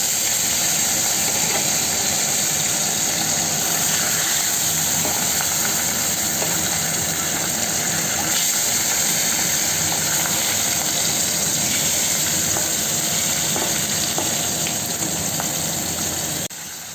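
Catla fish rubbed with salt and turmeric frying in a wok, a loud, steady hiss of spitting oil that continues unbroken for the whole stretch.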